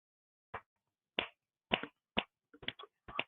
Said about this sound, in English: I was just in the background snapping my fingers.